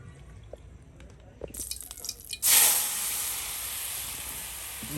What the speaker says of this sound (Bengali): দেখুন গরম তেলে একদম ছেড়ে দেওয়া হলো শুটকি, আলু কুচি, পেঁয়াজ কুচি সব একসাথে